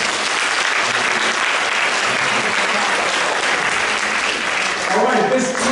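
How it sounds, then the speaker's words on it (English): Loud audience clapping for Denise at a real estate seminar, a dense continuous burst lasting several seconds, with a voice briefly emerging near the end. "Now when I show you the green card, a lot of applause"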